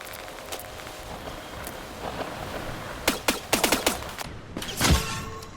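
Rapid gunfire bursts in the Fortnite video game, played on an iPhone, crackle as a cluster of sharp shots over a steady hissing background, with one heavier blast near the end.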